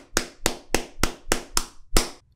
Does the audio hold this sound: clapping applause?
yes